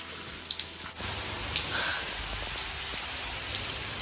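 Heavy rain pours steadily during a tiger safari at Ranthambore National Park in Rajasthan, a dense, constant hiss with scattered louder drop hits close by, no voices over it.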